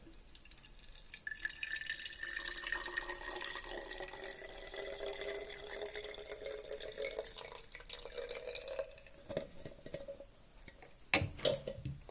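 Tap water runs into a soap dispenser being refilled, a steady splashing trickle that rises in pitch as the container fills, ending with a few clunks and knocks.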